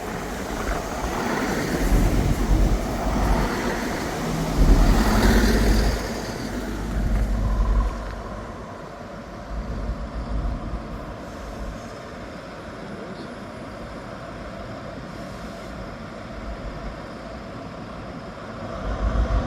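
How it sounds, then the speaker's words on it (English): A ScotRail passenger train from Aberdeen to Edinburgh Waverley pulls into Montrose station, a broad low rumble that swells loud early on and then settles into a quieter steady hum, with wind buffeting the microphone. "Arriving in now is the 1549 Scotrail service from Aberdeen to Edinburgh Waverley."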